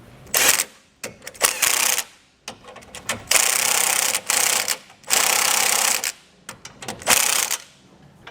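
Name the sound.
ratchet with 3/4 inch socket tightening base plate bolts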